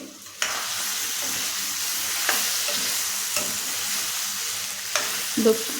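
Potatoes with turmeric fry and sizzle in a pan while a spoon stirs them, steady close crackling punctuated by a few scraping knocks of the utensil against the pan.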